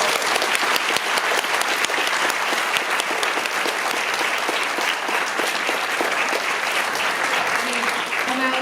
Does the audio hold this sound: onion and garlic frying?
no